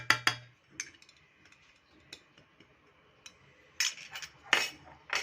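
Dessert ingredients such as sugar and starch are mixed in a bowl, heard as a spoon clinking and tapping against the bowl at irregular intervals, with a few brighter, louder clinks toward the end.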